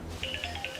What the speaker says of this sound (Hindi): आ गया उसका फोन।